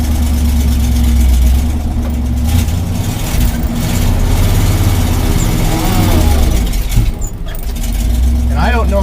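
A truck engine runs after a cold start with a steady low drone and rumble, close and fairly loud, while a person talks over it.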